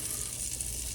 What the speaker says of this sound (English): We're going to put in about 2 tablespoons of butter. You can see it's sizzling.